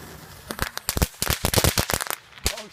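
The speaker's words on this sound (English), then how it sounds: "Did you just throw a firework in?" Firecrackers crackling and popping after a firework is dropped into a cup, a quick irregular string of sharp close bangs over about two seconds, with one final pop.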